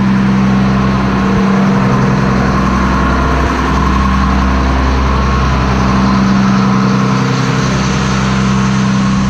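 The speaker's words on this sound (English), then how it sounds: "It's idling a little high" Diesel engine of a 2006 Blue Bird Vision school bus idling slightly high with a charging fault, a steady, loud, close drone with a constant low hum and no breaks.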